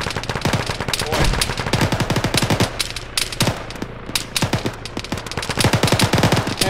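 Rapid bursts of automatic gunfire and single shots from the military shooter game Arma 3, dense and continuous throughout, with a low hum underneath.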